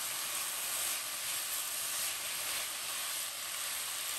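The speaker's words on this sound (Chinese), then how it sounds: "加入青椒丝，翻炒出青辣椒的清香味。 然后和土豆丝炒匀。" Shredded potato and green pepper stir-frying in a wok give a steady, close, bright sizzle and hiss that runs unbroken throughout, with no talking.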